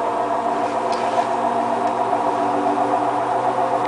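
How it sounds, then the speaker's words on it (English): A Hotpoint Ultima WT960 washing machine on a boil wash cleaning cycle, running an intermittent spin at about 800 rpm: a steady, loud mechanical hum with a constant drone and no pauses. "This is the second intermittent spin."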